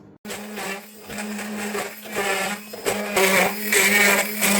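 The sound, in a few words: blender crushing cookies into crumbs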